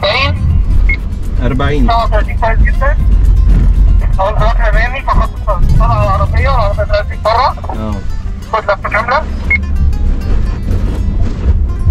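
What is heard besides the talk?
Nissan Qashqai car driving during understeer handling test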